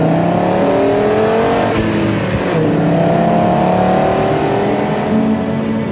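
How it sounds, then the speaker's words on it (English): An Audi Sport five-cylinder race car roars past loudly and close, its engine note sweeping up, dipping as it passes, then a second blaring five-cylinder surge follows, with a high whine above the raw, rasping exhaust. "Whenever a car like that is passing by, you hear this is a 5-cylinder."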